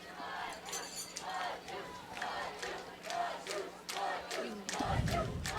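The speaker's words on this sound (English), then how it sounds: "Now the cheering section in excellent voice tonight, having a good time here at Lakeland." A high school football cheering section at a night game at Lakeland, a crowd chanting and shouting together in steady bursts, fairly distant and continuous across the stands.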